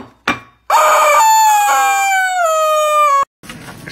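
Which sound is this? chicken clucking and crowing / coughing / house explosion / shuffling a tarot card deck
chicken clucking and crowing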